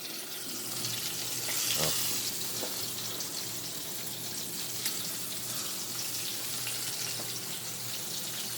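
Tap water runs steadily into a kitchen sink during cleanup after frying chicken thighs, a continuous close hiss and splash throughout, with a brief exclamation heard early on.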